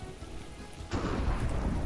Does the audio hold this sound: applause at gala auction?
no